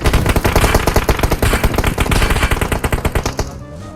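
Rapid automatic gunfire in the PUBG Mobile game, a loud close burst of dense rhythmic shots that runs almost continuously before cutting off near the end, with no talking.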